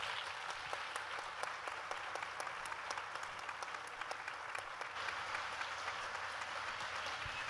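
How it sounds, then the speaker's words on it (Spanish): Applause from a large crowd at a Palestine solidarity event, heard from some distance as a dense, even wash of clapping that holds steady throughout. "un aplauso enorme"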